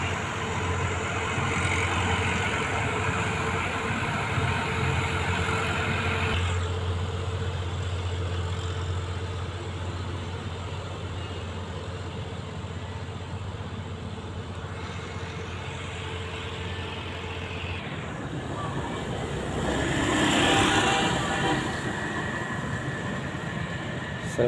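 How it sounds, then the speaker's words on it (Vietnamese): A large sand barge's engine runs steadily on the Ô Môn river while hauling sand for the North–South expressway works, a continuous low droning rumble that swells briefly louder near the end. "Xà lan cát đang chạy vô nha các bạn, xà lan cát công trình nữa đó các bạn"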